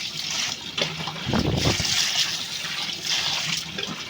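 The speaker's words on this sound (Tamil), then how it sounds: "ஃபுல்லாக தண்ணி ஊற்றி க்ளீன் பண்ணிகிட்ருக்கோம்" Water is poured over freshly dug lotus roots to wash them, a steady close splashing and trickling flow that swells into a heavier gush near the middle and runs continuously throughout.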